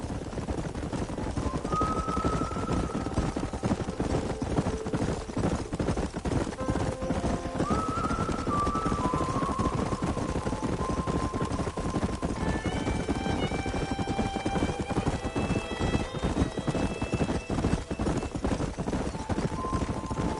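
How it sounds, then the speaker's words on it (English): Horses whinny and neigh over a steady, busy Red Dead Redemption soundtrack, with galloping hoofbeats clattering along beneath them and no talking. "There's the horses!"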